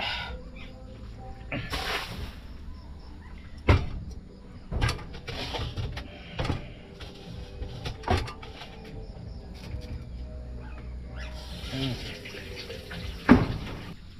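Dishes washed at a kitchen sink under running water, with intermittent clatters and knocks of dishware over a steady low water hiss; quiet speech is heard now and then.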